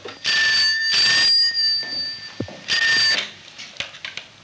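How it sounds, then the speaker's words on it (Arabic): An old telephone in a home rings with a shrill electric bell, two long bursts separated by a pause, near and loud, followed by brief clatter and small handling noises. "صادق أفندم على التليفون يا فندم"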